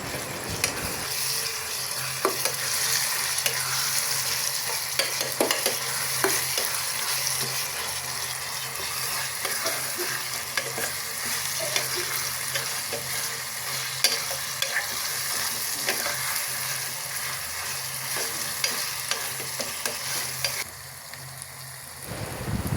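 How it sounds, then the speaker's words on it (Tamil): Ground garlic and cumin sautéing in hot oil for a fish curry, with a steady close sizzle and repeated scraping stirs of a spoon through the pan, running continuously throughout. "அரைச்சி வச்ச வெள்ளைப்பூடு, சீரகம் அதையும் அதில் போட்டு நாங்கள் எண்ணெயில் வதக்கி எடுத்துக்கொள்வோம்"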